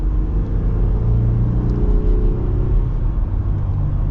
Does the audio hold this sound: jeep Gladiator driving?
yes